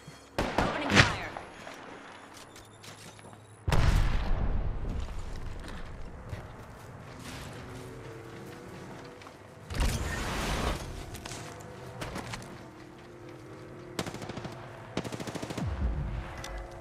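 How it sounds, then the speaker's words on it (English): Gunfire in the Apex Legends battle royale game: sharp bursts of automatic shots and single cracks with mechanical clicks and creaks between, loud and close, separated by quieter stretches. "Opening fire."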